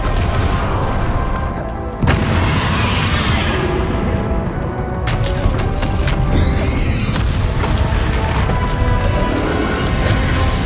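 Confringo spell blasts in the Hogwarts Legacy video game, booming explosive hits and crashes within a dense, loud, continuous battle mix.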